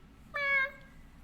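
A single clear meow from a pet cat named Kitty, close and lasting about a third of a second, in an otherwise quiet room.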